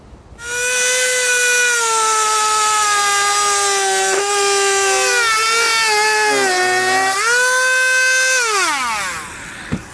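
A power tool whines steadily and loudly for nearly ten seconds while trimming a trim panel during installation of a hidden hitch rack receiver on a 2013 BMW 3 Series, its pitch dipping under load before winding down.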